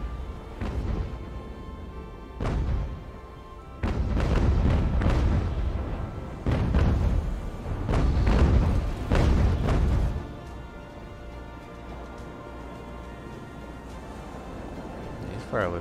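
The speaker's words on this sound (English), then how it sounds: "just send the next few cannon rounds into her hull" Deep booming volleys of cannon fire from sailing warships in the naval battle game Ultimate Admiral Age of Sail, heard as several heavy rolling bursts clustered mid-clip over a steady ambient background, with someone talking over parts of it.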